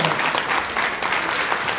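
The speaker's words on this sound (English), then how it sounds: "Another round of applause for this amazing panel" Dense, steady applause from a conference audience at a women's leadership panel discussion, loud and sustained throughout with no gaps.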